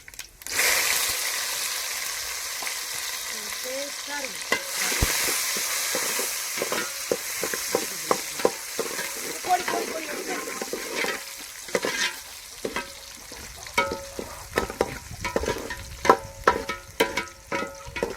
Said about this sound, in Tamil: நல்லா எண்ணெயில் கொஞ்ச நேரம் வதங்கட்டும்